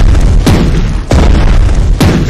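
Three heavy, booming warship gun blasts from Strategic Mind: The Pacific, evenly spaced about every 0.6 to 0.9 seconds, each a loud close thud over a constant rumbling battle background.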